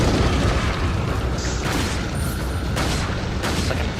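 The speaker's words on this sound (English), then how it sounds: "I'm getting rid of this stupid grenade. This grenade's ruining everything. This grenade's going under the table." A grenade goes off under a table in Resident Evil 4, giving a loud, sustained booming roar with crackling debris that fills the whole stretch, with no voices over it.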